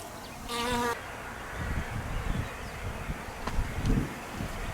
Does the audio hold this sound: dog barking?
no